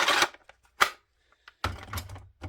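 Knife blade snapping into a large kydex sheath on a big chopping knife with a coated 1095 steel blade and micarta handles, giving sharp plastic clicks and scrapes, close and fairly quiet with no talking.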